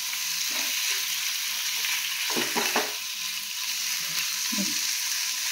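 Shrimp sizzle and spit steadily in a frying pan, a dense continuous crackle with a few soft stirring clunks near the middle and no voices.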